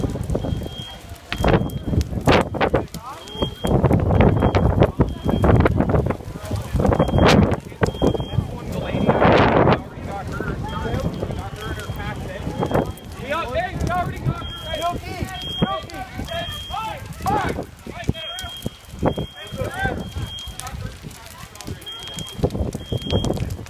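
Gusty wind buffets the microphone outdoors at a burning house in Charlottetown, rumbling loud and near throughout while people talk and a faint intermittent electronic beep sounds in the background.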